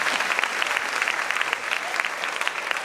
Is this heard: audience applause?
yes